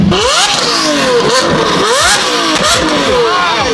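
A loud Lamborghini V12 engine revs repeatedly, pitch sweeping up and falling back in several surging pulls, close and continuous.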